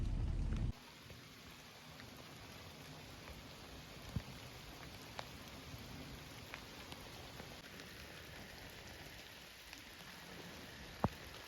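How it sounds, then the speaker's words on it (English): Light rain patters softly and steadily, with a few scattered louder drops, fairly faint and with no one speaking. "It's raining a little bit. It's not too hard right now."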